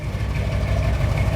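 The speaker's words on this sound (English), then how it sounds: "Flowmaster 40s dumped out right before the axle. It's also very loud." A car engine idles through Flowmaster 40 mufflers dumped just ahead of the rear axle, a loud, steady, deep rumble close by with slight pulsing and no voices.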